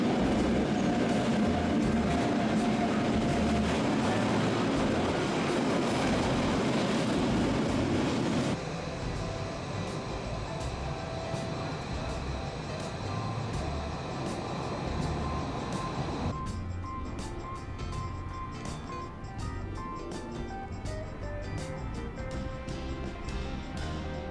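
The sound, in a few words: train passing on Swiss railway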